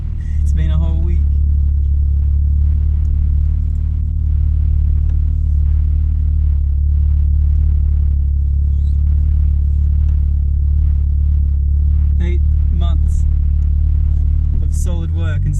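Ford Falcon FG Turbo being driven to warm up, a steady loud low engine and road rumble running throughout, with someone talking briefly near the start and again near the end.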